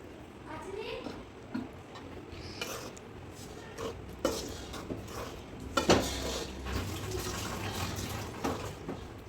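Roasted gram flour being stirred with ghee in a pan, scattered close scraping and clinking of a spoon against the pan, faint, with someone talking quietly over it.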